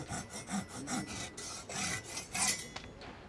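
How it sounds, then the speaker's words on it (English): Rhythmic rasping strokes of a saw cutting off an old wooden bead on a small wooden piano, close and fairly quiet, about a dozen back-and-forth passes with no voices. "The next step is to cut the remains of the old bead off"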